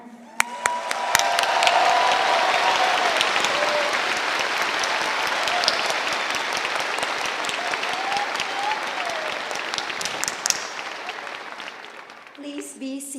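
At an evening university commencement ceremony, a large crowd breaks into sustained applause, broad and even with scattered cheers and whistles, swelling quickly and holding for over ten seconds before tapering as a voice returns at the end.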